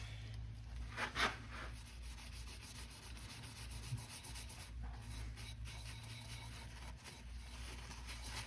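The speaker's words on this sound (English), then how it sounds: "turn it off and kind of just wipe it into these grooves really good" A cloth wipes finish into the grooves of a turned wooden Christmas tree on a stopped lathe, giving soft continuous rubbing and scrubbing strokes, close and quiet over a low steady hum.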